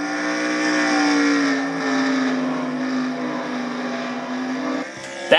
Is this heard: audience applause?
no